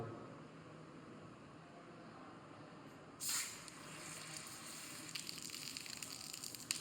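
A well-shaken soft drink bottle has its cap taken off with a sudden sharp hiss, followed by a steady, soft fizzing of foam that builds toward the end, with no talk.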